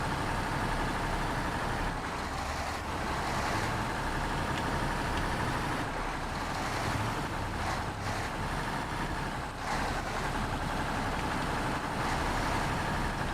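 A twin-steer truck fitted with chains drives in a video game, a steady, loud engine rumble and road noise that continues without a break, with no voices.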